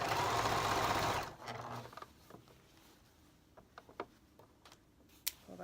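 A sewing machine stitching reversible kids' pants whirs loudly for about a second, then stops, leaving scattered small clicks and ticks of handling the fabric and needle.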